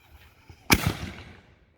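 A backyard Fourth of July firework fires from its launch tube with one sharp, loud bang, then a crackling burst that trails off over about a second outdoors.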